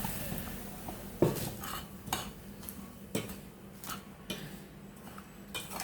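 A spoon scrapes and clinks in a bowl while hot oil is worked into a red chili pickle masala, making soft irregular knocks and taps with quiet gaps between.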